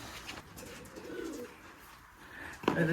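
Giriraj pigeons in a pigeon loft at a Rajshahi pigeon farm give soft, low coos, a short murmuring call in the middle and another near the end over quiet background noise.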